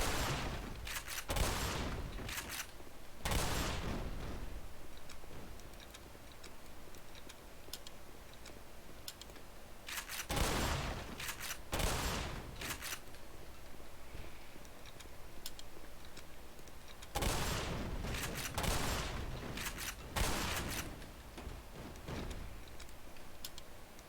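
Bursts of rapid gunfire in the video game Half-Life Xen beta come in a few separate volleys, sharp and loud against quieter ticking game ambience between them.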